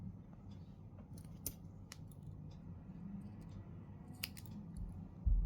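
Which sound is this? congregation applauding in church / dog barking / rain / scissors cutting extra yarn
scissors cutting extra yarn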